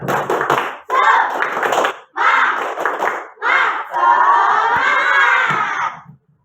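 Schoolchildren at a school gathering do a clapping cheer led by a teacher, with several loud bursts of group shouting and rhythmic claps ending in one long sustained cheer.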